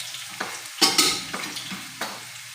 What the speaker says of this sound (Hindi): बड़े बड़े प्याज जो है हमने इसको काट के इसके तेल के अंदर डाल देते हैं